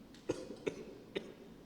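Three short coughs spaced unevenly, fairly close and moderately loud, with quiet room tone between them.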